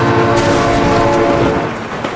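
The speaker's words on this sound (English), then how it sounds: "Oh my god, train!" Train in the BeamNG.Drive driving game, a loud rumbling pass with a sustained horn-like tonal blare and rolling clatter underneath, close by and fading slightly toward the end.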